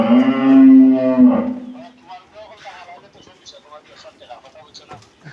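Cattle at a cattle market, one loud close moo lasting over a second, then people talking amid the market bustle.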